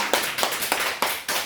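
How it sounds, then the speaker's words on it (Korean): A church congregation at a Thanksgiving service claps in unison, five loud, evenly timed claps in a quick row, close and without speech. "하나님께 영광의 박수를 올립니다."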